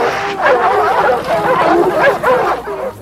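Dogs holding a cornered jaguar at bay during a jaguar hunt, barking and yelping in a dense, continuous overlapping chorus close by with no talk.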